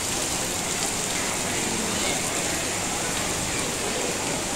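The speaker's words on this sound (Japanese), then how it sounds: "大雨。" Heavy rain pours steadily over a restaurant area in Brickfields, Kuala Lumpur, a dense, continuous hiss of water on surfaces close by, loud and unbroken, with no voices heard.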